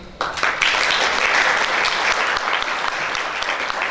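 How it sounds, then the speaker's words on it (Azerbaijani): Audience applause for a woman author at an Azerbaijani book event: a full, steady round of clapping starts abruptly and holds loud and dense to the end, with no one talking. "da mütləqdir ki, alqışlayaq."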